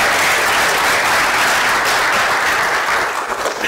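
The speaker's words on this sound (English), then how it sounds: "Round of applause for Jessica." An audience at a live masterclass event gives a loud, sustained round of applause, dense clapping from many people that carries on evenly for several seconds.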